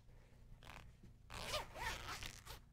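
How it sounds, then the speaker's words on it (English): A zipper is pulled open on fabric during sewing, first a short tug and then a longer, louder rasping run, heard close by and on its own. "Open your zipper,"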